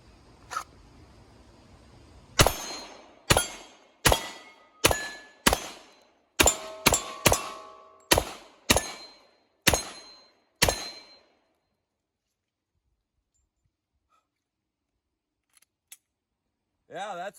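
A Glock 35 Gen4 pistol in .40 S&W fires about a dozen sharp, loud gunshots in an uneven rapid string, each with a short ringing decay, followed by near silence and a faint voice at the end.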